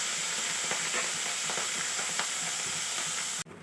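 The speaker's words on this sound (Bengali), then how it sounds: "অল্প অল্প করে মাছগুলো দিয়ে ভেজে নেব" Puti fish frying a few at a time in hot oil in a kadai, a loud, steady hiss and crackle heard up close that cuts off abruptly near the end.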